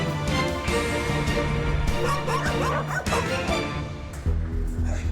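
Several dogs bark and yip repeatedly in an enclosed kennel as a fire approaches, overlapping and excited, with some whimpering mixed in.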